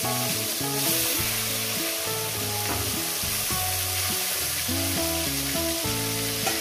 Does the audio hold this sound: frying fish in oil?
yes